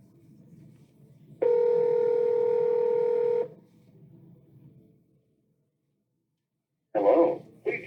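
A telephone keypad sounds a dialing tone, one long steady beep lasting about two seconds, close and clear, followed by quiet and then a brief burst of further tones near the end.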